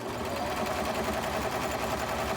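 A sewing machine runs steadily while stitching a washable medical shoe cover, with a continuous close, even whir and no pauses.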